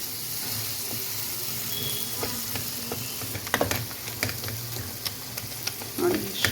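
Spice paste (gojju) for aloo dum biryani frying in a pan, a steady close sizzle broken by scraping stirs and clicks of a spoon that grow busier toward the end.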